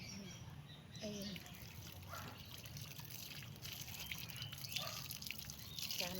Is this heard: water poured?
yes